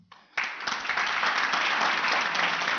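Audience clapping for a university team at a season-finale award session, a dense burst of applause that starts abruptly after a brief quiet moment and holds steady and moderately loud to the end.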